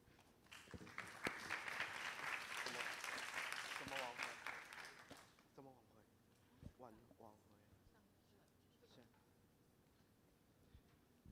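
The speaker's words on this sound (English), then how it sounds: "Please welcome them with a round of applause" Audience applause welcomes student presenters at a high school SDGs conference, a dense burst of clapping for about five seconds that fades, followed by a speaker's voice.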